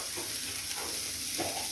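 Chilli powder, coriander powder and turmeric with ginger and onion heat in a pan for Kerala-style fish curry, giving a soft, steady sizzle with faint stirring scrapes.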